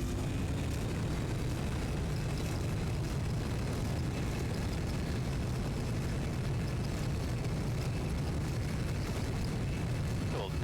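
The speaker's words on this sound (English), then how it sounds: "Now let's apply full reverse thrust." Airliner engines spooling to full reverse thrust after landing in a flight simulator game, a dense continuous roar holding steady and loud throughout.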